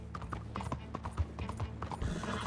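Horse hooves clip-clop in a steady trotting rhythm in the video game Red Dead Redemption 2, moderately loud over a dense bed of game ambience and music.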